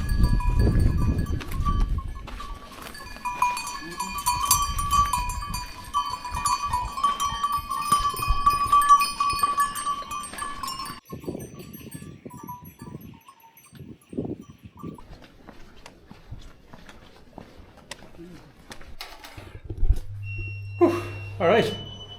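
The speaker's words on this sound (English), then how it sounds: "We're blocked by goats." Goats bleat nearby amid the steady clanking of many cowbells on a trail in Tiger Leaping Gorge, China, with people talking; the bells fade partway and bleats continue sparsely.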